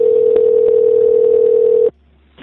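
Telephone line tone at the start of a 911 emergency call reporting a fatal shooting in Bluffton: a loud, steady single-pitch tone held alone for nearly two seconds, then cutting off abruptly.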